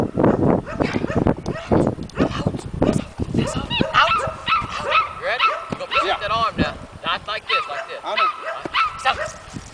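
A Belgian Malinois dog barks repeatedly and whimpers close by, loud yelps and whines in an irregular run, with people talking over it.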